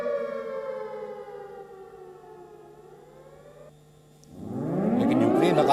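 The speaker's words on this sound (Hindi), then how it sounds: "कीव में सायरन बज रहे हैं और कहा जा रहा है कि ये हवाई हमले की चेतावनी है।" Air raid warning sirens in Kyiv, a loud sustained wail that slowly falls in pitch, dips briefly, then rises again in a strong surging tone, heard alone without talk.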